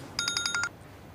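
A telephone rings in a quick burst of about six rapid electronic trill pulses, moderately quiet, then stops; nobody speaks over it.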